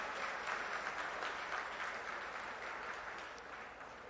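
Sustained applause from a crowd at a political press conference in Kurukshetra, Haryana, a dense, steady clatter of many hands clapping that slowly fades slightly toward the end.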